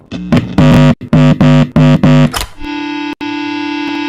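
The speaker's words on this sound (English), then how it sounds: "distortion and feedback echoes throughout the entire guitar center" An electric guitar plugged into a high-gain amplifier in a guitar store blasts loud, heavily distorted chords in a choppy rhythm, then settles into a sustained, buzzing feedback drone broken by sharp pops.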